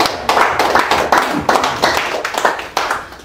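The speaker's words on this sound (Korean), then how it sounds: "다시 김 총재님한테 박수 한번." Audience clapping at a Saturday guest lecture, rhythmic and fairly close, with distinct bursts of hand claps roughly every half second over a few seconds.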